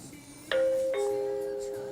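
A wireless indoor chime paired with a Tuya 2K QHD smart doorbell rings a clear two-tone ding-dong, the first bright note sounding, then a lower second note sustaining and slowly fading, loud and close.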